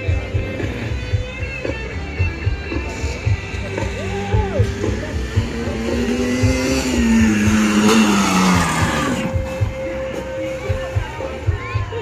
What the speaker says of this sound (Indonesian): Vespa balap guys.